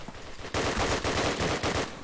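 Rapid automatic gunfire from Call of Duty: United Offensive, played in a competitive match: dense bursts of shots rattling close and loud from about half a second in, continuing steadily to the end.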